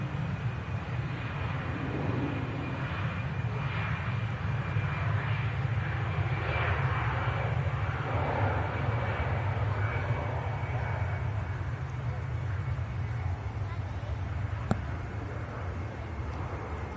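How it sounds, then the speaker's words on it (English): An Iberia Express Airbus A320 at Manchester Airport gives a steady, loud low engine roar that holds throughout with little change, and no talk over it. "Iberia Express aircraft A320."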